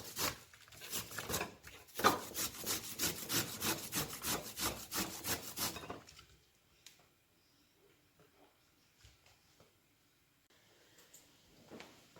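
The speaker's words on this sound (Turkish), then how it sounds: "Mor lahanamı da toplamda bir su bardağı olacak kadar rendeliyorum." Red cabbage rubbed against a grater in rapid, rhythmic rasping strokes for about six seconds, loud and close, then fading into quiet with only faint scattered clicks and handling noises.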